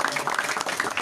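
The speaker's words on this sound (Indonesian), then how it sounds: "bersama Al Ustaz Musyaffa Ali, tepuk tangan buat beliau" An audience at a religious gathering claps for a guest speaker, a brief burst of fairly faint, dense applause with rapid overlapping hand claps.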